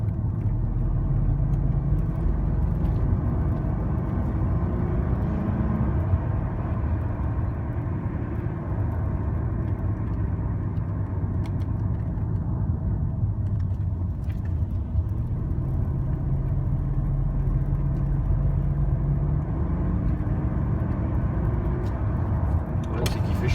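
A BMW 840Ci V8 driving with the windows closed, heard from inside the cabin as a steady, loud low engine rumble and road drone that holds throughout.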